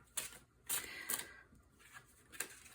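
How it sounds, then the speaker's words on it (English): Several crisp, papery riffles and flicks of tarot cards being shuffled up close, coming in short bursts with quiet pauses between. "I'm just gonna shuffle again"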